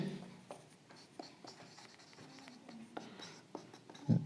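A pen writes an answer by hand on paper, giving faint, soft scratching strokes with small pauses between them, close and quiet, ending in a slightly louder tap.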